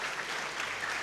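An audience at a book presentation claps for Susana Manukyan. The applause is a brief, dense burst that stays steady and fairly loud throughout.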